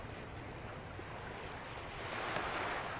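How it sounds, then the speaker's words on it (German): Gentle waves and lapping water in the video game Crimes & Punishments, a steady broadband wash that swells slightly toward the end, heard alone without voices. "Das Wassergeräusch ist schön."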